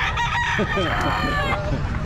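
A rooster crows loudly and close by at a live-animal pet market in Calumpit, its call rising and breaking over a steady murmur of market chatter and background noise.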